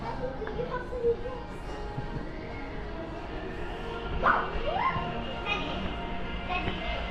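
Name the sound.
small dogs barking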